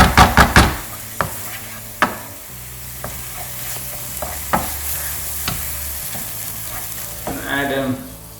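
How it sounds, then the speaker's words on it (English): Utensil stirring egg masala in a pan, a run of scraping knocks and clanks over a steady sizzle of frying, with a few sharp taps early on and softer stirring later. "Give that a little stir"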